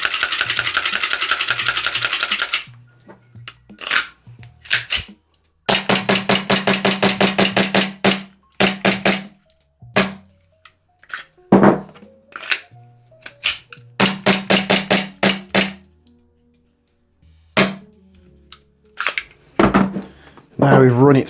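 A licensed VFC/EMG SI SMP gas blowback airsoft pistol's slide is cycled by hand repeatedly, producing bursts of sharp metallic clacks and rattles in quick rhythmic runs separated by pauses, with someone speaking briefly in between.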